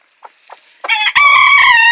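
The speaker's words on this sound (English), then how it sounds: "That's a typical broody hen noise." A broody hen's soft clucks followed by a drawn-out, loud, complaining squawk, close to the microphone.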